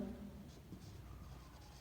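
Pen writing on paper during a physics lesson, a soft scratchy scraping of strokes, quiet and close with a low background hum, no clear speech.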